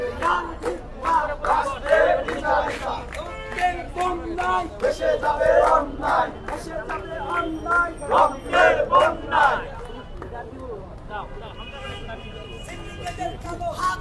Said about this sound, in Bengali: তারা বিভিন্ন স্লোগান দিচ্ছে